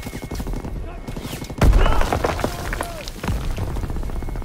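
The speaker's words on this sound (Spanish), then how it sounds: "¡Granada en camino!" A grenade blast in the World War II shooter Call of Duty WW2, a loud low burst breaking out mid-clip amid constant battlefield gunfire, with a player talking over the fighting.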